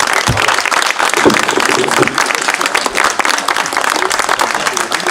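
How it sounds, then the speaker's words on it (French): Loud, sustained applause from a crowd, many hands clapping densely for several seconds with a few voices underneath. "Je pense qu'on peut les applaudir"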